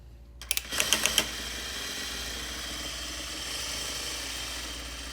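A Juki DDL900A lockstitch sewing machine gives a quick burst of rapid stitching clicks, then settles into a steady motor hum that runs on for several seconds.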